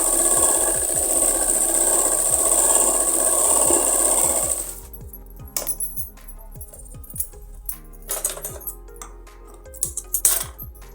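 A sewing machine running a double seam on a belted salwar, with a rapid, even stitching rattle for about four seconds, then stopping, followed by scattered clicks and small handling knocks.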